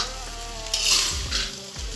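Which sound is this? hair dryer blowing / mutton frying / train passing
mutton frying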